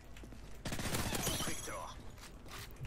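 Rapid bursts of MP9 submachine gun fire in Call of Duty: Modern Warfare 3, a fast rattling volley of shots with mechanical clatter, fairly quiet and mixed with game effects.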